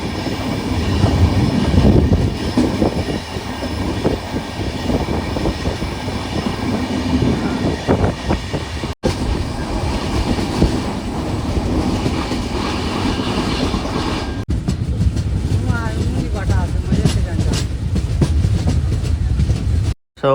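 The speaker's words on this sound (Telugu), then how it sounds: "సో మన ట్రైన్ అయితే గూడూరు జంక్షన్కి అయితే వచ్చేసింది." A passenger train on the Tirupati to Vijayawada run rolls along the rails near Gudur Junction, a loud steady rumble with clattering wheels and brief squealing, heard from inside the carriage throughout.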